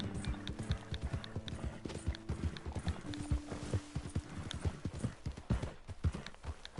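Horse hooves clip-clopping steadily at a riding pace in Red Dead Redemption 2, a continuous rhythmic clatter close by with an occasional faint whinny.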